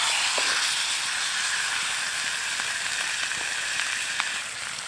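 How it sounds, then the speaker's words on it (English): Steak sears in a pan over a lightweight paper-thin camping stove, giving a steady loud hissing sizzle with faint crackles throughout, no voices. "So we'll get this steak in."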